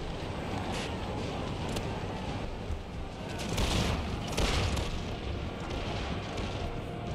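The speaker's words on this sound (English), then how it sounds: "Ooh, good artillery hits. Ooh, friendly fire artillery" Cannon batteries thunder across an Empire: Total War battlefield in a dense, roaring barrage, with heavier booming swells midway through a constant wash of distant gunfire and wind-like rumble.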